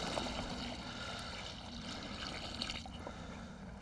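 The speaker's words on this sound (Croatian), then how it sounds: "Zašto sipam punu rupu vode?" Water is poured to fill a planting hole in garden soil for an outdoor Koral tomato, a quiet, continuous trickling gurgle that is faint and even throughout.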